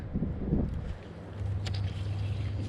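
Gusty wind buffets the microphone beside a springtime pond during bass fishing, low rumbling bursts rising and falling, with a faint swish of a lure cast partway through.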